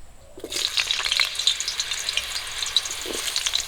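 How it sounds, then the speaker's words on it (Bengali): Potatoes hit hot mustard oil in a wok and burst into a loud, crackling sizzle that keeps popping and spitting close by without pause. "সবার প্রথমে আমি আলুগুলো ভেজে নেব তেলটা গরম হয়ে গেছে কড়ার মধ্যে দিয়ে দিচ্ছি"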